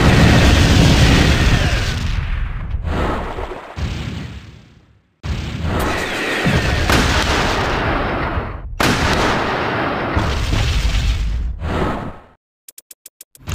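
Gunfire in the Sakura School Simulator mobile game sounds as loud, dense bursts of shots and booms in several long stretches, broken by brief silences, with a few sharp clicks near the end.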